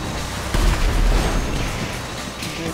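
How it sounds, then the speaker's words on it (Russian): Explosions in Grand Theft Auto V: a sudden heavy boom with deep low rumble erupts about half a second in, then a sustained roaring, crackling blast that slowly fades, with no talk over it. "все взрывается"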